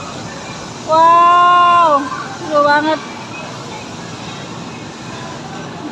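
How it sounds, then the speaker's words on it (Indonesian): A children's ride-on train inside a TRANsmart shopping mall sounds a two-part, whistle-like melodic tone over steady indoor hubbub, with people talking nearby. "Zen naik kereta api."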